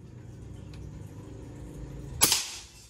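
A PCP hammer-type air rifle fires a single sharp, close report near the end, a short crack followed by a brief mechanical ring, after a quiet low background hum.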